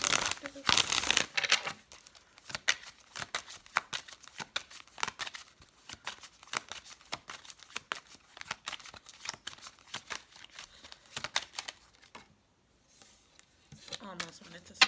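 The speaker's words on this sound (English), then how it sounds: "Let me get a quick card" Tarot cards are shuffled and handled during a reading, giving a steady run of close, crisp riffling and slapping with a speaking voice at times alongside.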